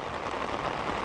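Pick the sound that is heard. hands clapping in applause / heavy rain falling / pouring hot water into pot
heavy rain falling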